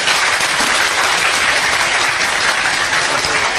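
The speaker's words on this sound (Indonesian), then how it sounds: "tepuk tangan untuk Allah Subhanahu wa Ta'ala" Audience applause fills a lecture or religious gathering, a dense steady roar of many hands clapping at close range with no break for the full stretch.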